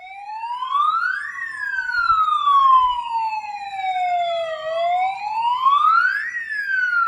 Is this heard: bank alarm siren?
yes